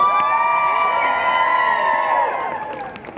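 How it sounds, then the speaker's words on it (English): A crowd cheers with whoops and high, sustained voices for a children's chorus at an outdoor Christmas tree lighting ceremony on the Capitol steps. Loud and continuous, it slowly tapers off toward the end. "Also give a stirring round of applause for the Appalachian Children's Chorus"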